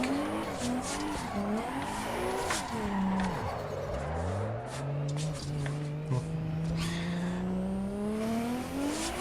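A stock race car drifting in the Assetto Corsa EVO driving game, after a clutch kick: a loud, rising and falling engine howl runs throughout, mixed with sustained squealing tires.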